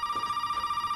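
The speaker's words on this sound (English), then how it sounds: "That phone scares me every single time." Telephone ringing in the horror video game Resident Evil 7, a steady electronic bell tone repeating in a fast trill for the whole second, loud and alone with no talk.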